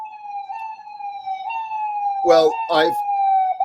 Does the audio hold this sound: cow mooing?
no